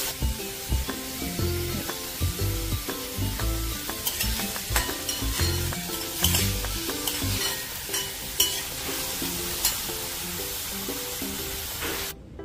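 Paneer stuffing sautéing in a little oil in a pan gives a steady close sizzle with repeated scraping stirs, running continuously for the whole stretch with no talking.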